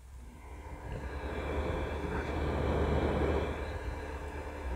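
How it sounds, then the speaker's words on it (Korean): A Raspberry Pi 4 cooling fan, heard up close, gives off a steady broadband whoosh with a faint hum that swells slightly midway and stays constant, with no talking. "한요 정도에서 들리는 게 지금 들리는 펜 소음이라고 생각하시면 될것 같아요."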